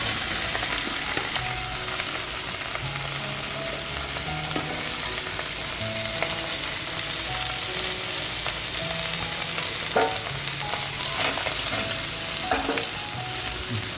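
Okra frying in a pan with already-fried dried fish, stirred as it cooks: steady oil sizzle throughout with intermittent scraping and clinking of the spatula against the pan, close and alone.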